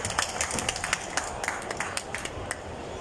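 Scattered hand clapping from an audience welcoming Pat Lee and Tenjin Hidetaka onto the stage at a Hong Kong anime and games festival, a light patter of claps with faint background noise and no speech.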